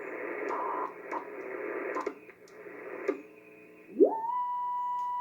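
BITX40 radio receiver powering up, a broad band of static hiss that drops away after a few seconds, then a steady tone sliding upward and holding as the oscillators come alive, close and moderately loud with no talk.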